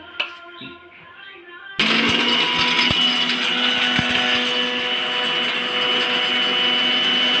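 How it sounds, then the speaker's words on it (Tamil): A mixer grinder grinds whole spices to powder for mutton biryani. It starts abruptly after a moment of quieter sound, then runs as a loud, steady whirring roar with a few rattling clicks from the spices inside. "மிக்சியில் போட்டு அரைச்சி தூளாக்கி எடுத்து வச்சுக்கிடணும்"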